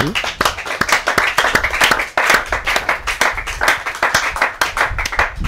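A church congregation at a Sunday service claps in a loud, dense burst of hands that carries on steadily throughout, close and full with no break.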